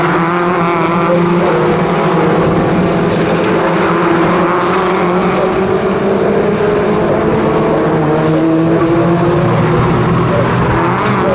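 Racing cars lapping the Snetterton circuit in an MG Owners Club race, loud sustained engine roar with shifting pitch as several cars pass close by, continuous throughout.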